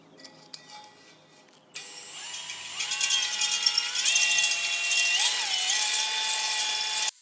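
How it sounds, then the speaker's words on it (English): An electric drill fitted with honing stones works the cylinder bores of a Kohler twin engine. A bright, loud whirring grind starts after a short quiet lead-in, then wavers in pitch as the hone moves up and down the bore. "I'm going to use a new honing stones on the drill"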